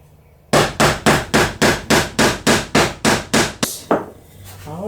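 Eleven loud, evenly spaced hammer strikes drive a large, stout sawtooth hanger onto a piece of custom wall art, each blow sharp and close with a short ring, followed by a brief quiet shuffle.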